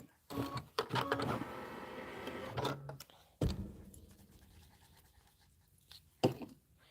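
A sewing machine stitches a wavy spiral quilting pattern on linen in a few short bursts of whirring motor, separated by clicks and handling noises, heard up close.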